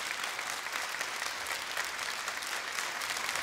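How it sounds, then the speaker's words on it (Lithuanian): Studio audience clapping steadily and evenly for a few seconds after a performance on a Lithuanian singing competition show, dense and uninterrupted with no voices on top. "Nieko, šiaip tik plojimai."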